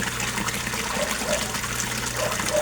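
Resun aerator pump running in water, giving a continuous bubbling and trickling with a low steady hum underneath, close and fairly loud throughout, no speech.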